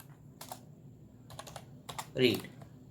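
Computer keyboard typed on in a few quick bursts of soft clicking keystrokes, close by and fairly quiet, with a slightly louder knock near the end.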